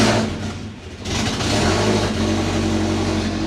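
Turbocharged Subaru engine with a homemade exhaust manifold and an exhaust leak, revving steadily under held throttle, loud and close with a dip around one second before climbing back to a sustained drone.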